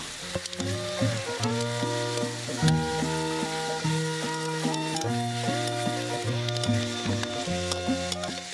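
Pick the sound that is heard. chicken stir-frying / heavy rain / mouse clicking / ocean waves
chicken stir-frying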